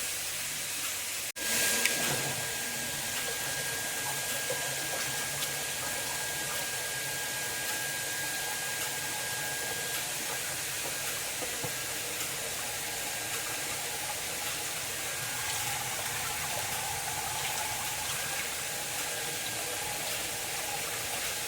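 A churner running in a mixture of mango and water, giving a steady, continuous whirring hiss that holds at an even level throughout, with a brief knock near the start.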